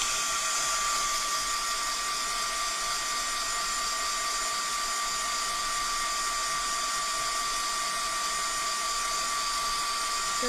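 A hair dryer blows steadily to dry Pentart medium on a laser-cut wooden nautical plaque, giving a loud, continuous, unbroken whir with a high whine and no pauses.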